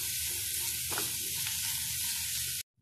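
Sliced onions with salt being stirred in a hot frying pan, a steady close sizzle and hiss with faint scraping of the stirring, cutting off abruptly near the end.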